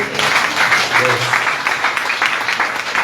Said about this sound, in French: Est-ce que vous pouvez faire un applaudissement encore plus chaud?